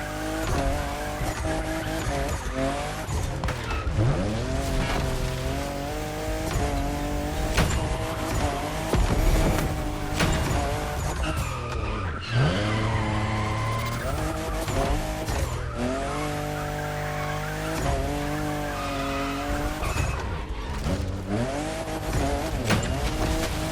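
Toyota Supra fifth generation drifting in The Crew Motorfest, engine revving hard with long screeching tire squeals rising and falling through repeated slides, loud and close throughout.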